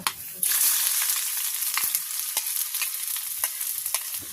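Chopped onion dropped into hot oil for a potato filling, a sudden loud burst of sizzling that settles into a steady hiss with scattered light spatula taps, close and alone.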